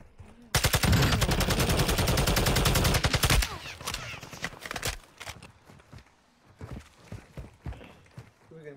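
Video game gunfire comes as a loud, rapid automatic burst for a few seconds, then scattered quieter shots and clatter while players talk.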